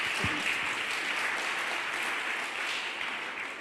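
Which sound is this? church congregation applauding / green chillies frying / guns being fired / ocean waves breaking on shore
church congregation applauding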